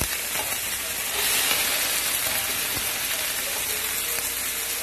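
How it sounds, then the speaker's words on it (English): Gnocchi and ground beef sizzle steadily as they brown in a one-pan skillet, a dense, continuous frying hiss with faint crackles running close and loud throughout, with no talking. "They're sizzling because they've taken on a little bit of water."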